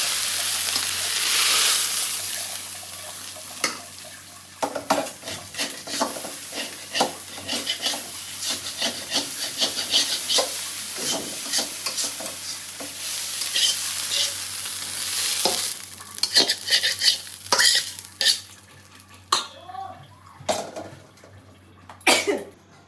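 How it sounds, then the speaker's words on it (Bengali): Fish frying in oil in a pan gives a continuous crackling sizzle, broken by frequent scraping and rubbing strokes of a spatula that cluster densely toward the end, loud and close with no talking. "আস্তে আস্তে মাছটা ভেজে নিই"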